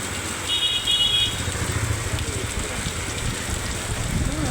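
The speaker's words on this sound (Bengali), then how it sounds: "আবার মুষলধারে বৃষ্টি এলো।" Heavy rain pours down in a downpour outdoors near a stalled toto (e-rickshaw), a dense steady hiss with a low rumble of traffic underneath and a brief high whine early on.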